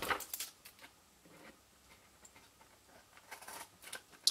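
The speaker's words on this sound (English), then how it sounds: "And we can just trim off these extra bits." Scissors snip off the extra bits of a striped festive papercraft triangular bag, a few quiet close crisp cuts scattered over a few seconds in near silence.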